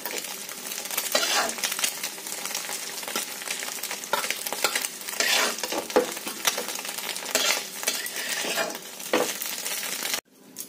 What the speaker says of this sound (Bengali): এবার এটা ভালো করে ভেজে ভেজে দেখুন হয়ে এসছে